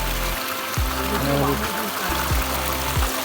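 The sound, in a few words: stream of water flowing down from above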